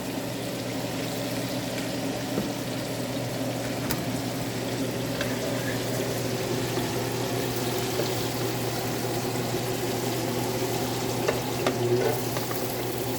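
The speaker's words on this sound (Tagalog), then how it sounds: "Nagigisa naman po tayo ng pangpansit" Ingredients for pancit frying in a pan, a continuous moderate sizzle with faint stirring scrapes and a low steady hum underneath, no voices.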